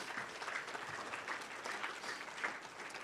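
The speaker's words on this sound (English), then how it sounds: "So if we could please give them all a big round of applause." Audience applauding volunteers at a VEX IQ robotics competition event, a steady wash of many hands clapping throughout, moderately loud and fairly distant, with no talk over it.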